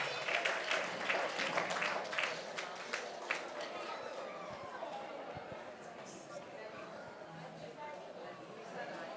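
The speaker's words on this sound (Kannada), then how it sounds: "ಚಪ್ಪಾಳೆ ಮೂಲಕ ಅವರನ್ನು ವೇದಿಕೆಗೆ ಬರಮಾಡಿಕೊಳ್ಳೋಣ." An audience claps at a gurukul festival stage event, with brisk applause strongest at first that thins and fades while voices murmur underneath.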